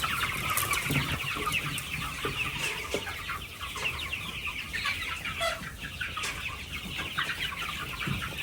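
Many chickens cluck and chatter together in a continuous busy murmur, with occasional louder squawks standing out.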